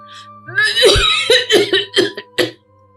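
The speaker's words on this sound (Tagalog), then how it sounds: "Parang sinusumpong na naman ako ng ubo, anak." A person coughs in a short burst of several harsh, uneven coughs, close and fairly loud, with a steady low hum underneath.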